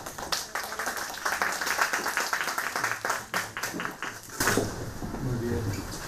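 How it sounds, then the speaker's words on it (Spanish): An audience applauds a doctor introduced as a speaker at a school event, giving irregular, fairly close claps. Voices and a brief clatter come through partway, and a steadier wash of clapping follows. "Le damos un fuerte aplauso"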